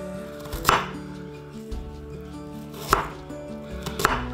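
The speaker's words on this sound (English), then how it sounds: "chop these onions up roughly" Knife chopping through small red onions on a board, a few sharp, close knocks spaced irregularly with quieter cuts between them.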